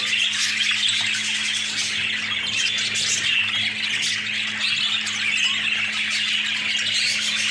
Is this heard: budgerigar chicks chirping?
yes